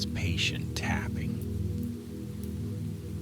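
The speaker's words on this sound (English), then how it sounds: "Outside, rain continued its patient tapping." Soft, steady rain patters against windowpanes throughout, a continuous gentle wash beneath a quiet whispered voice at the start.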